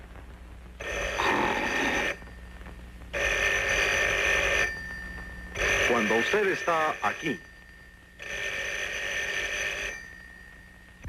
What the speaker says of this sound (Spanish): y el teléfono suena acá,